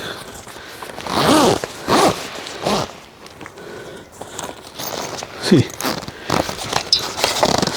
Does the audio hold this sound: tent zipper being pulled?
yes